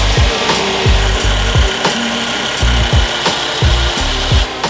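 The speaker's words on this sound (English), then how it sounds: "might as well give the old belt sander a try" An old belt sander grinds against the cut end of a metal tube from a drift truck: a loud, steady abrasive whir with a thin high whine and rhythmic low thumps as the piece is worked, with no talking.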